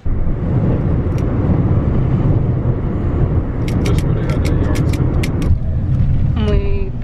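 A car drives steadily with a loud, constant road and engine rumble, setting off on a short errand trip. People talk over the noise inside.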